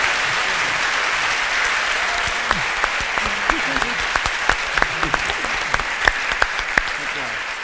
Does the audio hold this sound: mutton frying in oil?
no